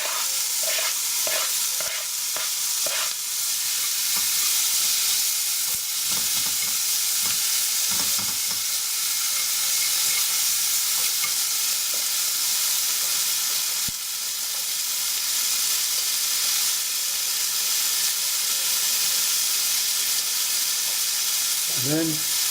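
Shallots sizzle steadily in a hot frying pan, a constant close hiss with occasional scrapes and stirring clatter, and one sharp tap near the middle.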